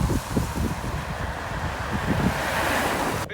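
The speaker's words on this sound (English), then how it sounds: "Bit windy" Steady wind rushing over the microphone while riding an e-bike on a road, a continuous broadband roar with gusty low rumbles throughout, no talking.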